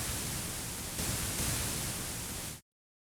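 A noise waveform from the Wusik Station software synthesizer's sample player hisses as a steady, broadband static wash for about two and a half seconds, then cuts off abruptly into silence.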